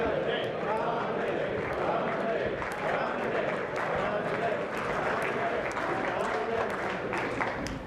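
Conference keynote audience claps steadily in a dense, sustained wash of applause that holds at an even level throughout without fading.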